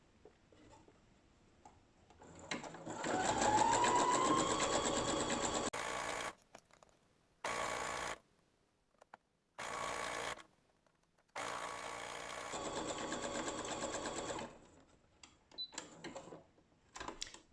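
Domestic sewing machine stitching elastic onto a bra cup's picot edge, a close, steady whirring run in several bursts separated by short silent pauses, with no voices.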